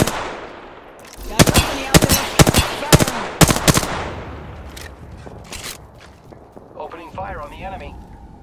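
Gunfire in the video game Apex Legends cracks out as a series of loud, sharp shots in quick bursts, then fades into trailing echoes and faint game sounds.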